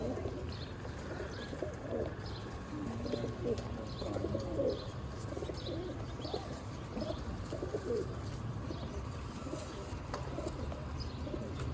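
Pigeons kept as pairs in a loft coo softly and repeatedly beneath a steady background hum, the calls blending into a continuous low murmur at moderate distance.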